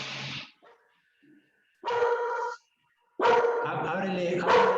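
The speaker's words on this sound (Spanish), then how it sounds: "Espere que la perra se calme." A female dog barks in a few separate bursts, fairly close and loud, with short pauses between them and some speech mixed in.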